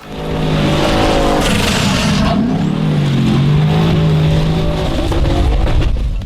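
A loud off-road rock crawling car engine roars and revs continuously, rising and falling in pitch as it strains under load, close by with no talking.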